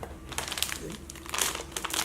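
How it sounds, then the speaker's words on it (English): Cardboard and plastic crinkle and rustle in short bursts close by as a Kracie Popin Cookin candy kit box is pulled open. "Once you open the box,"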